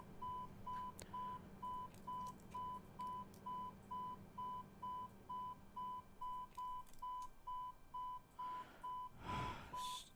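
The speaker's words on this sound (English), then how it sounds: "Stupid beeping noise." A steady electronic beep repeats at an even, quick rhythm in an Airbus A320 cockpit in Microsoft Flight Simulator 2020, with a brief burst of breathy noise near the end.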